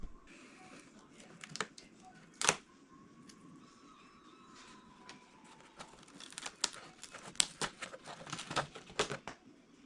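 Molded cowl access panels are worked loose from a DR-107 One Design RC plane, with Vaseline used as a release agent, giving scattered close clicks, crackles and plastic rustling that grow busier toward the end.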